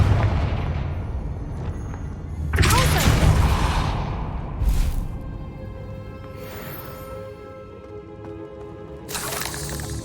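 A Confringo fire spell blasts out in Hogwarts Legacy with a loud whooshing burst and rumbling impact, followed by a smaller flare and fading crackles, with a faint later burst.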